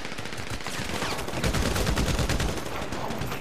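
Rapid gunfire in a GTA 5 Online deathmatch, dense overlapping bursts of automatic shots crackling continuously at close range, with no talk.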